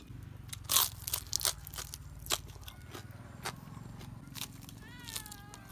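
Someone eating crunchy food at a home meal of Thai vegetable soup with salted fish and chili dip, with a few sharp, irregular crunches and bites close up over a low background hum.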